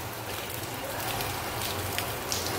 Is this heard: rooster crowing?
no